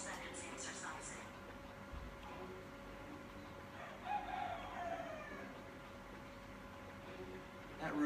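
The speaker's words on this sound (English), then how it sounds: "That rooster" A rooster crows once, faint and distant, about midway through a steady wash of outdoor background noise.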